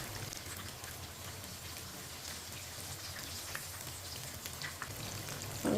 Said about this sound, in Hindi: ये वाली साइड से भी 1-2 मिनट के लिए फ्राई होने देते हैं।